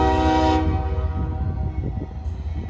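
CSX freight train horn blaring loud and close for about half a second, then cutting off into a low diesel rumble and rolling rail noise at a Chocowinity yard.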